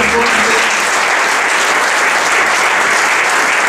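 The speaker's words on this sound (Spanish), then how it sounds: "¿Cuántos le aplauden a Dios?" Loud, continuous applause from a church congregation at a second anniversary service, a dense, even roar of many hands clapping together that fills the whole stretch without pause.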